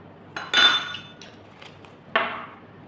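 A utensil clinks against a bowl while gimat batter is mixed with vanilla, with a few bright metallic taps, one longer scrape and a final clink, alone and close.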